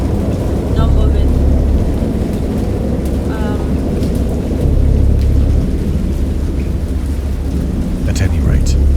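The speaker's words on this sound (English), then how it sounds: "I know that I heard pearls of thunder and other tones which nature utters only in her wildest moods." A thunderstorm in Dagon, a Lovecraft horror video game: steady heavy rain with deep rolling thunder that swells and fades, while someone narrates over it.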